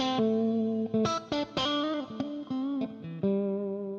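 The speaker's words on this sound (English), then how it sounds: "And then you go to the bridge and the middle pickup" An electric guitar, a Strat on the bridge and middle pickups, played clean with a slightly processed, chorused tone, picking a short melodic phrase of single notes and double stops.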